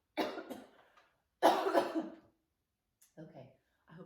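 A person coughing in short, close bursts, a few quick coughs followed by a louder fit and then fainter coughs after a pause.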